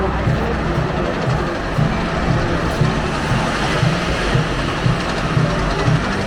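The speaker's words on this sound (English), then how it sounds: "The train just left the station and it's going up the lift hill." Roller coaster train at Silver Dollar City climbing the lift hill, a steady, loud mechanical rumble with a regular clanking pulse from the chain lift underneath.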